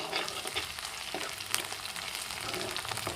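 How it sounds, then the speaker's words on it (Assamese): Onions, garlic and chillies sizzle in a frying pan as they are stirred, a dense crackling hiss running steadily throughout with faint scraping of the spoon. "এতিয়া ভালকৈ লৰাই দিম"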